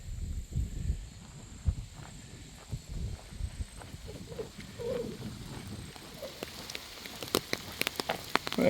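Rain just beginning to fall along a nature trail at a former golf course park, with scattered light patters and drops ticking on surfaces, growing busier toward the end under soft footsteps.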